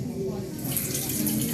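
Water runs steadily from a tap as a child washes hands, a continuous splashing hiss close by, growing brighter as the flow strikes the hands partway through.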